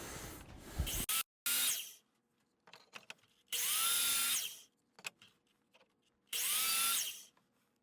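A power tool cuts a chamfer into the corners of a wooden lantern's bottom in three loud bursts lasting about a second each, with quieter handling taps between them and no talk.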